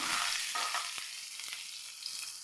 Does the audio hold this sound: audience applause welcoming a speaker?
no